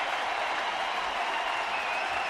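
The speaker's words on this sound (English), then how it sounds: "So Bumgarner's going to get a great round of applause" A baseball stadium crowd at a Giants vs. Astros game gives steady, sustained applause for a departing pitcher, a dense wash of clapping and cheering without pause.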